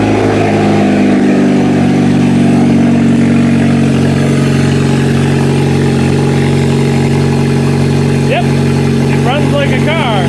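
A Kia project car's engine fires up and settles into a steady, loud idle close by, with a faint rising whine near the end.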